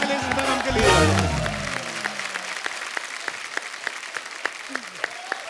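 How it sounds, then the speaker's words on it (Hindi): Studio audience at a comedy talk show applauding, a dense burst of clapping that tapers into scattered claps, while a voice with music rises briefly at the start. "जोरदार तालियां गोविंदा सर के लिए, सुनीता मैम के लिए।"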